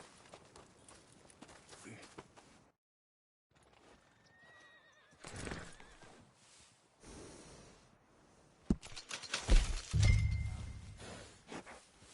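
Horse in Red Dead Redemption 2, a workhorse neighing and snorting nearby, with hooves clopping and shuffling, a whinny rising midway and louder stamping and snorts near the end.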